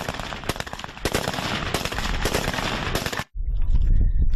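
Chinese Type 56 automatic rifles firing, loud close bursts of rapid full-auto gunfire with sharp overlapping reports for about three seconds, a brief gap, then continued heavy rumbling fire.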